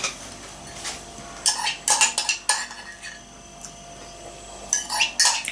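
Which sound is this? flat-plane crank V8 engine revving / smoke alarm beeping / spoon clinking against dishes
spoon clinking against dishes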